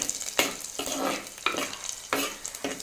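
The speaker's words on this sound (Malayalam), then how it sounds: "അപ്പോഴേക്ക് കുറച്ച് വഴറ്റിയെടുക്കാം നമുക്ക്" Shallots sautéing in a pan for a spicy fish curry, with a steady close sizzle broken by a few sharp bursts of spatula stirring and scraping.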